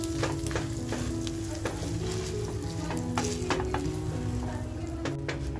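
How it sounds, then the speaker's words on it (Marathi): Minced mutton bubbles and sizzles steadily in a clay pot, with occasional soft pops and clinks of a utensil against cookware. "आपला खिमा अजूनही छान असा उकळतोय बघा"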